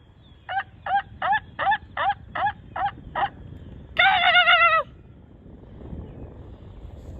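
A wild turkey tom outdoors gives a run of short, evenly spaced calls followed by one longer rolling gobble, clear against a quiet outdoor background with no talking.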